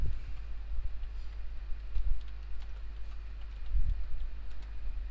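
Typing text into an Excel spreadsheet cell on a computer keyboard, soft clustered key taps in a few short bursts over a low background hum, fairly quiet and without talk.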